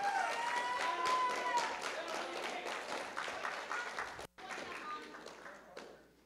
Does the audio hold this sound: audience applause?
yes